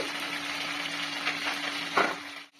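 Water-soaked cumin paste hits hot oil in a pan for a vegetarian doi potol curry, giving a steady close sizzle with a brief louder hiss near the end, then it cuts off.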